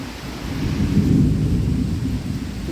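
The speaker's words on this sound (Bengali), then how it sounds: "এত জোরে ঝোড়ো হাওয়া আর বৃষ্টি হয়েছে" Stormy wind and heavy rain make a dense, continuous roar that swells slightly in the middle of the short stretch. No voices are heard.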